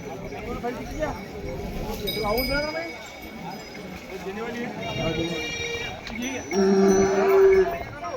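Bulls low and moo amid a busy outdoor bull market crowd in Pusad, with steady chatter and voices throughout and a louder, drawn-out call near the end.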